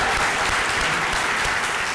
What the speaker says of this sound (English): Let's give a big applause to them too.